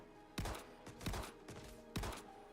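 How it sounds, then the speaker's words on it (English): Distant gunshots in the Star Citizen video game, heard as three or four sharp reports spaced about half a second apart, each trailing off into an echo, faint and far away. "Them gunshots echo all the way up here."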